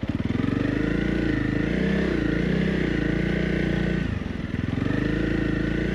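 A Honda CRF 300 Rally motorcycle engine revs hard and steadily nearby while its wheel digs into sand, its loud buzzing pitch wavering, dipping briefly before surging again.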